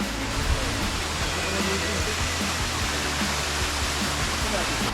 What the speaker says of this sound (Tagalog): So ito na po ang Kinabuhan Falls, guys.